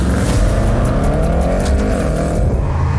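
Audi RS7 accelerating hard on the road, a loud, continuous engine roar that climbs steadily in pitch for about three seconds, close and dense with road noise and no talk.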